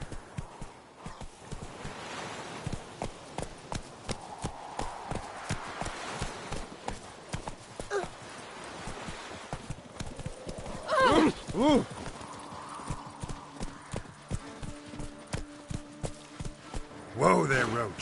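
A horse in the Witcher 3 video game gallops with steady, rapid hoofbeats and lets out a couple of loud whinnies midway and near the end, with game sound and a voice mixed in.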